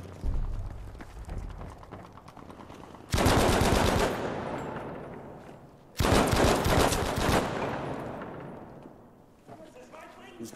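Machine gun fire in Battlefield V multiplayer: two long, loud, close bursts of rapid automatic shots, each trailing off into echo, with quieter game noise between them.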